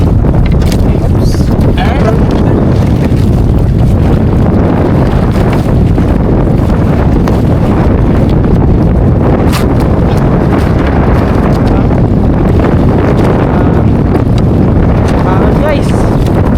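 Wind and rough sea waves buffet a small boat at sea, a loud, steady roar of gusting wind across the microphone with sloshing water throughout, while people talk intermittently.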